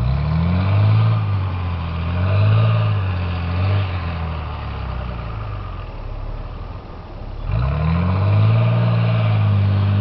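A four-wheel drive vehicle's engine revs on a driveway, rising and falling in repeated surges, easing off briefly, then roaring back loud and near.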